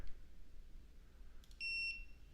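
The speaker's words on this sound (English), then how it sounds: "And I got a little timer here I can start." A digital study timer gives a short, faint pair of high electronic beeps, the second held slightly longer, over quiet room hiss.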